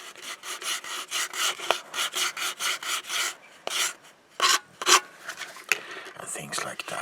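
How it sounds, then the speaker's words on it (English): Sandpaper rubbed back and forth along the edges of an item being prepared for repainting, a steady rhythm of soft, close scratchy strokes, then a few sharper scrapes and pauses, with faint whispery speech in places. "taking a sandpaper like this and started to work on like edges"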